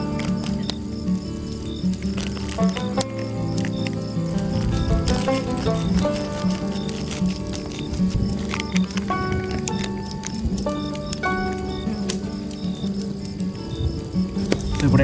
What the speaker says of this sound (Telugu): వాన అయితే మళ్ళీ స్టార్ట్ అయింది వచ్చి.